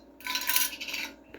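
Two cinnamon sticks dropped into a home cough and sore throat remedy mixture with onion and lemon juice, a short bright clattering clink lasting under a second, close and alone.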